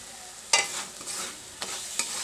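Tomato spice masala with a splash of water fries in a pan for a vegetarian potato-paneer dish, as a soft sizzle runs under three quick, sharp spatula scrapes.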